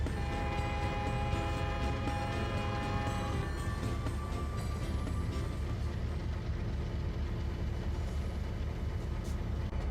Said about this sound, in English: Jorge and Joshua waited for a freight train to pass by,